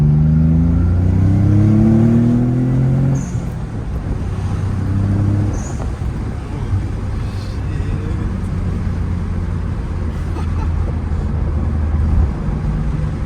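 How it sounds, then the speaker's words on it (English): A Nissan 300ZX twin turbo engine revs hard nearby, climbing in pitch over a few seconds, then drops to a steady, throaty drone at lower revs. "Rev it out."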